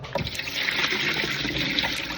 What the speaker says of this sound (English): Rinse them with cold water.